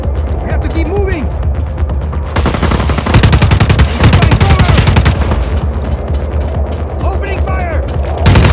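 Automatic gunfire in the open-world action game Just Cause 4, loud rapid bursts of machine-gun fire with mechanical clatter, dense and sustained over game ambience and shouted voices.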